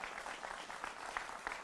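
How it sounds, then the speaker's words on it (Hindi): Applause greeting guests in a television debate studio, a continuous wash of clapping at moderate level with no voices over it. "तो जोरदार तालियों से सब मेहमानों का स्वागत करिए।"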